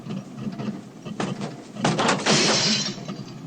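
A stuck car window is banged on several times, with irregular sharp thumps building to a louder crashing burst near the end, close and alone.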